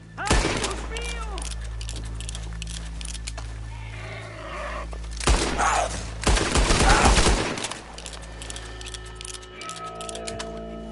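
Gunfire in the video game Red Dead Redemption, with sharp cracking shots and a rapid, rattling burst in the middle over a steady low drone, loud and close, with people talking in between.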